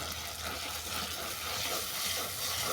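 Spice paste for a katla fish and raw jackfruit curry sizzles steadily as it is sautéed in oil until the oil separates, a continuous close crackling hiss with no voices.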